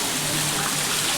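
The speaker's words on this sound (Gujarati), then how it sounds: "અને આમ વરસાદ તો જો કેટલો વરસાદ પડે છે" Heavy stormy rain pours down at night in a courtyard, a dense, steady broadband wash of falling water with no gaps and no speech.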